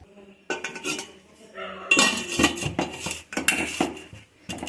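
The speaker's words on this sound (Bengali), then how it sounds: "এবার আমি ঢাকনাটা দিয়ে একটু দমে বসিয়ে বাইরে চলে যাব" A metal lid set onto a biryani cooking pot, giving a run of sharp clanks and rattling metallic knocks close up, several hits in quick succession over a few seconds.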